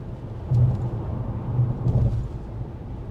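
Cabin of a 2023 Acura RDX A-Spec cruising at 55 mph: a steady low road and engine rumble with faint tire hum, no talking, moderately quiet throughout.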